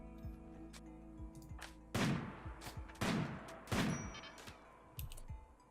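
Scattered gunshots in a Rimworld battle, several sharp loud reports at irregular intervals with fainter shots between, over a quiet game backdrop.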